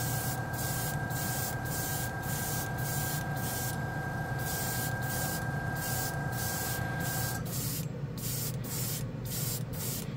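Gray Rust-Oleum primer spray paint hisses steadily from an aerosol can in a continuous loud spray, with a faint high tone that drops out partway through.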